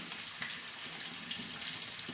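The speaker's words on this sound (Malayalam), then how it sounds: "കടുകൊക്കെ പൊട്ടി" Mustard seeds pop and crackle in hot oil, a faint steady sizzle dotted with small sharp ticks at uneven intervals, with no voices.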